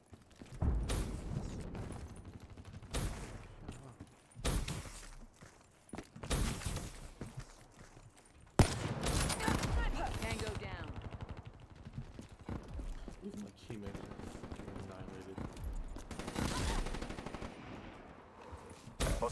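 Gunfire from Call of Duty: Black Ops 3 comes in rapid automatic bursts and single shots, loud and close and separated by short pauses, with game voices mixed in.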